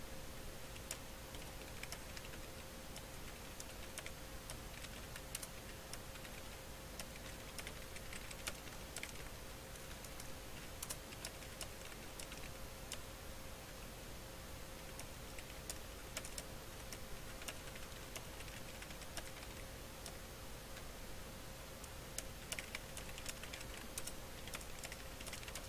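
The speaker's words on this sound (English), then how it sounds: "I'm typing fast." Someone types fast on a computer keyboard, a faint, continuous patter of rapid key clicks lasting about twenty-five seconds with no talking.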